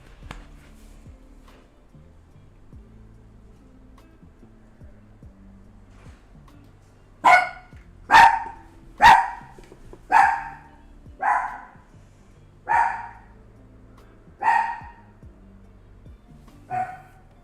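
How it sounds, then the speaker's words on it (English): A dog barks about eight times in a loud, evenly spaced run after a long quiet stretch, each bark sharp and close with a short tail. "It's my dog."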